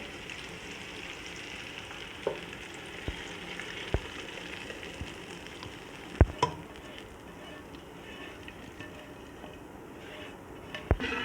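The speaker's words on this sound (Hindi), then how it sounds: "और अभी ये सारा तड़का दाल में जाएगा।" A steady, hissing sizzle of hot oil as a tomato tempering is poured into masoor dal, with scattered sharp pops and crackles throughout, close and fairly quiet.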